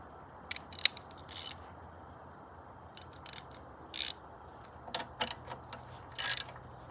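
Socket wrench ratcheting on bolts fixed over a Chevrolet Equinox car battery: short bursts of fast metallic clicking, several separate runs with pauses between, faint against a low hum.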